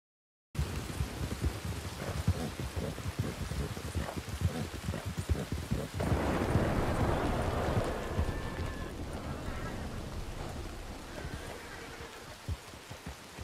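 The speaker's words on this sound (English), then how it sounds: "Fucking rain." Steady rain pattering with rumbles of thunder, a dense wash of drops that swells louder partway through and then eases slightly, heard alone without talk.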